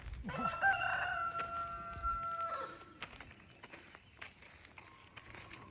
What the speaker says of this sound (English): Here's some more chickens.